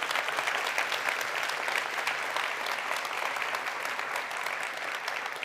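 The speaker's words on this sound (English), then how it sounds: "Please join me in applauding our teachers." An audience at a school district address applauds teachers with dense, sustained clapping that stays loud and even throughout, with no speech over it.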